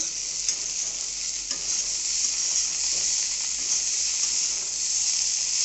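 Spiny gourd (kakrol) fries in a pan with a steady, close, continuous sizzle and occasional faint stirring clicks, alone with no talking.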